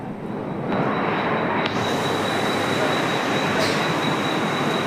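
A crowded local train at DY station rumbles steadily with broadband rail noise, a thin high wheel whine running through it, and faint voices under the din.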